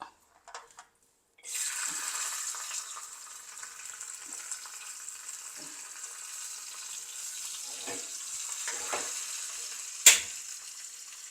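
Cashews fry in ghee with a steady bright sizzle that starts abruptly after a few faint clinks, holding even and close, with occasional stirring scrapes and one sharp clank near the end.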